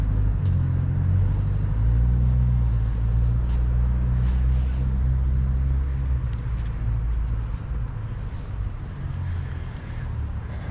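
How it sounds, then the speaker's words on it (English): A BMW rolls into an underground car park, a steady low engine rumble close by with some wind buffeting, holding level and then easing slightly as it moves off. "Looks as though a Beamer is just slipping into the underground car park."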